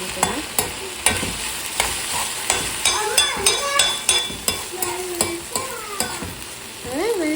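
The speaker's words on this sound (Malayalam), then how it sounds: "എണ്ണ ഇവിടെ ചൂടാവട്ടെ, കറിവേപ്പില ഒന്ന് ഇട്ട് കൊടുക്കാം" Curry leaves drop into hot oil in a Kerala home kitchen, crackling and spitting sharply up close, with a regular series of spoon or spatula taps and stirring knocks over the sizzle, no talk.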